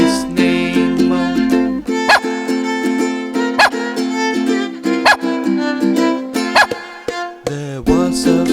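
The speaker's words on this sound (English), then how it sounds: "There was a farmer who had a dog, and Bingo was his name" A cartoon dog barks in the Bingo nursery rhyme about a farmer's dog. Short sharp yips land at regular intervals, roughly every second and a half, over a loud sung melody with instruments.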